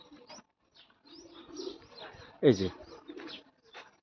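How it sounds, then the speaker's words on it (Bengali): Soft pigeon cooing near at hand in a two-storey mud house, low and throaty, with a brief spoken phrase and light background sounds. "মাটির দোতলা বাড়িতে কবুতর"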